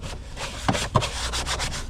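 A brush scrubs cleaner into the carpets of a used Land Rover Range Rover L322 TDV8, giving steady close rubbing strokes with two sharper scuffs partway through and no talk.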